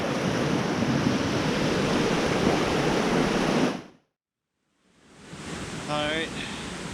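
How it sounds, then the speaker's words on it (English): Rushing water along a Bruce Trail hiking path in winter, a loud continuous roar that cuts out abruptly, then fades back in with a voice speaking over it. "Hopefully you guys can hear me over the water here."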